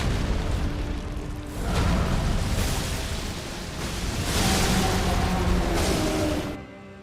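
Impenetrable Thorns attack in Elden Ring striking a Fire Giant: dense, booming, crunching impacts that rise and fall in waves, loud and close, before ending abruptly.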